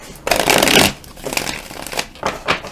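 A deck of reading cards shuffled up close, one long continuous riffle and rustle followed by several shorter, softer shuffling bursts, with no voices.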